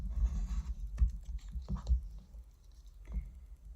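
A rotary cutter slices through fabric along a triangle ruler over padding of quilts, making soft uneven thuds and scraping taps in a quiet room, close up with no talking.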